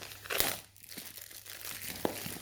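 Plastic wrap is peeled and crinkled off a Samsung Galaxy Note 9 box, producing close, short crackling bursts and a sharp rustle near the end.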